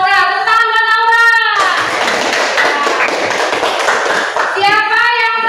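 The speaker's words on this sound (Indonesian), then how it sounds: "tepuk tangan Laura." A classroom of children applauds Laura with a loud burst of rapid, dense clapping that lasts several seconds, framed by a teacher speaking just before and after.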